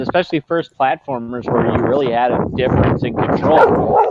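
Dog barking at other dogs in an upstairs window, a few sharp yips and barks at the start followed by a person talking over faint canine noise.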